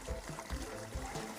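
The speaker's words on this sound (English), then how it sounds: "that's allowing water to flow down through there" Water trickles steadily down through a pond's overflow skimmer outlet, a soft, continuous dribble heard faintly and on its own.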